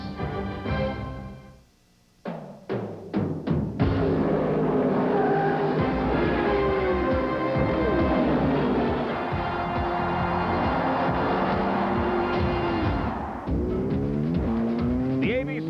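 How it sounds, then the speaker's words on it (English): Indy Racing League race car engines roar at the Las Vegas 500K, opening with a few sharp revving bursts and then settling into a loud, sustained, dense engine drone that eases slightly near the end. "And the engines have just started here at this magnificent new facility"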